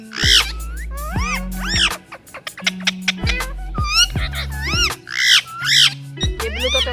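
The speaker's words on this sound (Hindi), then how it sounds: "अभी हमने तोते निकाले हैं और ये देखिए कितने अच्छी तरीके एक दूसरे के साथ बात कर रहे हैं।" Pet parrots, including a blue one, chatter and squawk at each other close up in a rapid run of sharp, whistling calls with brief pauses, and no talking in between.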